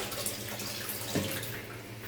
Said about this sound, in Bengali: এই যে আমার এখানে চাল ধোয়া শেষ প্রায়।